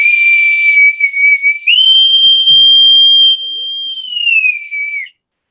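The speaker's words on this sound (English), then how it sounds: "I'm going to close out on this very positive show with the bosun's whistle." A bosun's whistle blown close and loud: a shrill, sustained piercing tone that steps up in pitch, holds, then steps back down over about five seconds before cutting off, with no talking.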